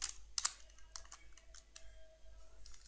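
Keys tapped on a computer keyboard while entering a short line of text, a few faint scattered clicks with quiet pauses between them.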